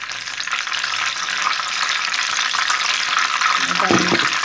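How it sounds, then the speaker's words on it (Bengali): Food frying in a pan until browned and reddish gives a steady, close sizzle with a stir or utensil clatter near the end, no voices. "এটা ভাজা হয়ে গেছে,"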